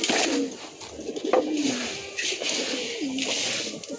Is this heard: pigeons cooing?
yes